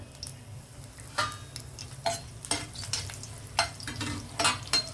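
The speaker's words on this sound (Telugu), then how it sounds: "ఇది వెల్లుల్లి వేసాను వేడెక్కుతున్నప్పుడే జీలకర్ర ఆవాలు అలాగే ఎండుమిర్చి కూడా" Garlic, cumin, mustard seeds and dried chillies sizzle in hot oil in a pan, with soft steady frying and a string of sharp crackling pops and spatters, close and alone with no voices.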